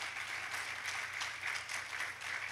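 A church congregation applauds at a moderate distance, giving a steady wash of many hands clapping with a low hum beneath. No one speaks over it.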